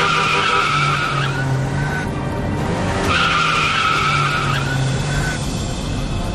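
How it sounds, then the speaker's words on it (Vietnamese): Tire squeal and skidding from traffic on an expressway, where a 16-seat passenger van struck a car: two long, loud screeching skids over steady road noise, with no voices. "xe khách 16 chỗ đang lưu thông cùng chiều phía sau không kịp xử lý dẫn tới va chạm"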